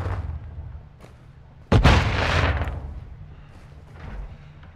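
Gunfire in Call of Duty: Modern Warfare II: a sudden loud blast or burst of shots cuts through low background rumble, then fades into a lingering roar and quieter battlefield ambience.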